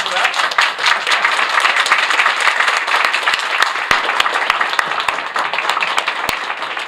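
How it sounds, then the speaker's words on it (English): Hospital-event audience in Queens applauding at a mayoral media appearance, dense sustained clapping with sharp individual claps popping through, loud and continuous throughout. "You can clap for that."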